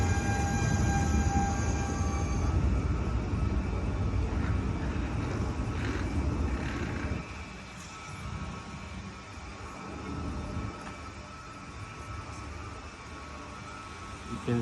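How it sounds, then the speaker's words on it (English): A TER passenger train made of two paired units, travelling from Lyon Part Dieu to Paris Bercy, rumbles past loud and close, then fades into a lower, steadier roll of wheels on rails. "They have paired 2 trains of 6 buggies."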